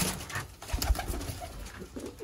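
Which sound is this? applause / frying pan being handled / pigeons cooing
pigeons cooing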